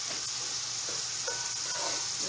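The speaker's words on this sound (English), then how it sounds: "All right, we're frying the sauce." Red stew sauce sizzles steadily while frying in a pan, a close, even crackling hiss with small bubbling pops and faint stirring, and no talking.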